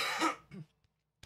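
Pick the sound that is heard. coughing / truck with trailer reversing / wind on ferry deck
coughing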